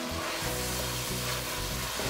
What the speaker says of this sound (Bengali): সবজিগুলো একটু হালকা হালকা ভাজা ভাজা হয়ে গিয়েছে